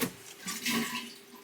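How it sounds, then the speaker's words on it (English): An RV toilet flushes with its pedal held down, a brief rushing gush of water that swells and fades over about a second and a half, with no one speaking. "open up the toilet. Just hold the pedal down."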